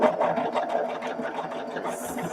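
A sewing machine stitches a quilt block in a steady, close whirring run of rapid needle strokes, loud and continuous, with no talking.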